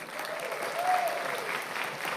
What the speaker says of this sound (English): warm round of applause for Miss Lucy again